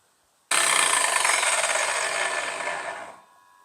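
Grizzly T33300 track saw slicing through plywood with a rubber-gasket guide track, a sudden loud whining cut that starts abruptly, holds steady for about two and a half seconds, then tapers off as the blade winds down.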